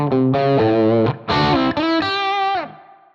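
An electric guitar plays through a signature amp model with a touch of reverb. It sounds loud and distorted, with sustained chords and notes in a short phrase whose final note rings into a brief tail.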